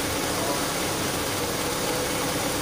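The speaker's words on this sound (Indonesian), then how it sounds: "Nah RPM-nya naiknya seperti ini kira-kira." A carburetor car engine runs steadily at raised RPM, a constant rumbling drone close by with no talking over it.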